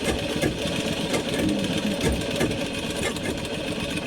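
A sewing machine stitching long seams on light saree fabric, running steadily with a fast, even mechanical whir and needle clatter close by, heard alone throughout.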